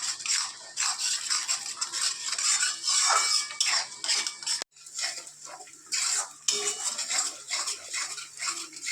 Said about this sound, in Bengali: দেখো, ভালো করে কষে নিচ্ছি।